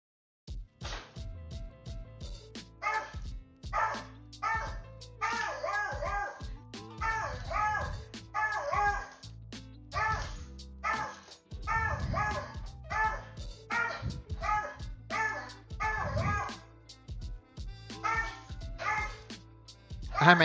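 A territorial leashed dog barks repeatedly at another dog in the neighbourhood, loud and close, with rapid bursts of barks broken by short pauses and a few whimpers.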